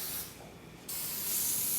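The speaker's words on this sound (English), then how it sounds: "Here, go ahead, you spray." Cooking oil sprayed onto a hot toastie pan in a home kitchen, a close steady hiss in two bursts separated by a brief pause, with no talking.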